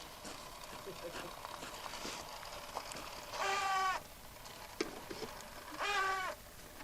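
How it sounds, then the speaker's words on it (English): A weather station mounted overhead gives two squeals, each a sustained, tonal whine lasting about half a second, clearly audible over faint background room noise and distant speech. "some squealing, that is the weather station that's right above my head"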